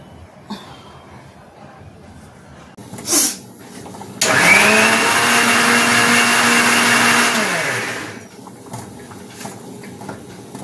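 An electric grinder makes poppy seed paste (posto bata) in a small flat kitchen, running as a loud, steady whine for about four seconds before spinning down, with quiet room sounds before and after.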